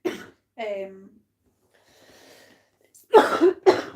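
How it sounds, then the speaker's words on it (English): A few short coughs: a brief burst at the start, a voiced sound, then two harsh, loud coughs close together near the end, with quiet in between. "germs that she's coughing all over my house"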